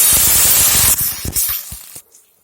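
Water poured into a hot pan of ghee, onion and chilli bursts into a loud hissing sizzle with spitting crackles, then quickly dies down to near silence within about two seconds.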